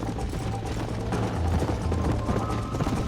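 Horse hooves clip-clop steadily in the Western video game Red Dead Redemption, a brisk rhythmic trot sitting in a dense bed of game ambience and music, with no voices.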